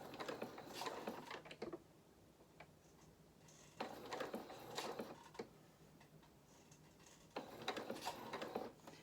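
A sewing machine stitches a cat doll in three separate bursts of rapid mechanical ticking, each lasting a couple of seconds with quiet pauses between, close and moderately loud.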